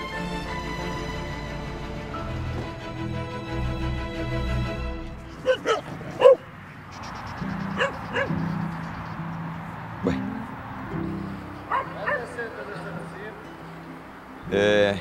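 An injured female Israeli army dog barks and whimpers in a few short, sharp bursts after a stretch of steady music, with the yelps standing out close and fairly loud.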